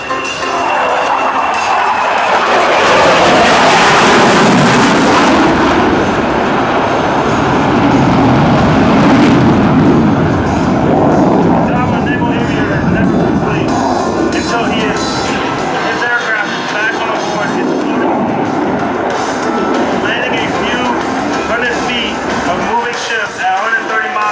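An F/A-18F Super Hornet jet roars loudly throughout a pitch race demo at an air show, a sustained broadband rumble that swells and shifts as the jet passes, with crowd ambience around it.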